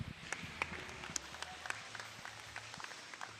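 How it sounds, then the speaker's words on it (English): Sparse applause rises at a county fair goat and sheep show, a thin scattering of separate hand claps with a few sharp, close claps standing out over a quiet background. "Let's give this one a round of applause."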